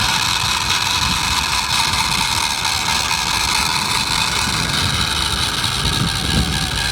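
A small 3D printed mini Thunderbolt siren rotator, driven by a small reduction motor through a gear drive, grinds and whirs with a constant, noisy mechanical rattle, close up with wind noise, for several seconds.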